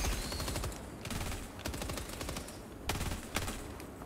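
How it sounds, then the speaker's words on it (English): Video game machine gun firing in sustained rapid bursts, loud and close, with short pauses and a few sharper cracks standing out in the stream of shots. "Dude, I'm like holding a machine gun"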